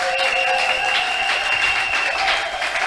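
A church congregation at a Sunday worship service claps to glorify God, a sustained, even wash of applause with a held musical tone ringing underneath and voices faintly mixed in.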